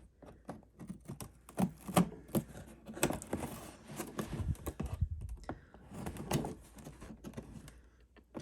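Scissors snip through the packaging of a Rainbow High Color Change Car toy box, giving a string of crisp, irregular cuts and rustles close to the mic with no talking.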